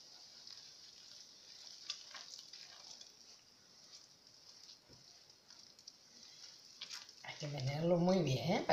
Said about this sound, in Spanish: Hay que menearlo muy bien, ¿eh? Para que se mezcle todo y salga una masa estupenda.